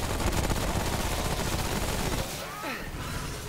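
Video game gunfire rattles in dense, rapid bursts for about two seconds, then cuts off, leaving a quieter game background.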